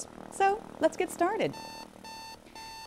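A voice speaks briefly, then an alarm bell rings in three rapid metallic bursts, steady and fairly loud, with short gaps between them.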